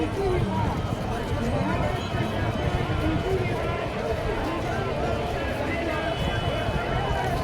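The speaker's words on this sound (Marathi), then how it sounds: "भक्तांची अलोट गर्दी." Dense crowd of devotees at the Pandharpur riverside temple on the Bhima, a steady wash of shuffling feet and babble with a voice speaking over it throughout.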